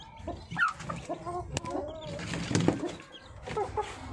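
Newly hatched chicken chicks peep and chirp nearby in a steady, busy stream, mixed with fuller clucking calls.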